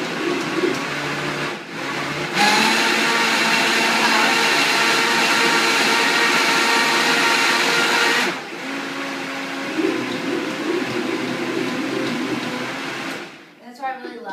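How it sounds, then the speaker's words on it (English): A Vitamix blender with a tamper blends a green smoothie of ripe bananas, its motor whirring loudly and steadily with a pitch shift partway through, then winding down at the end. "That's why I really loved having this tamper with the Vitamix, because you can kind of push down and not over blend"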